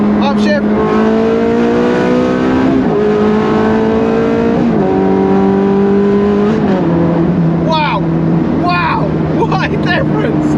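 A Ferrari Challenge Stradale accelerates hard on an open road, its engine note climbing then dropping at each quick upshift, several gear changes in a row, loud and close with a voice talking over it.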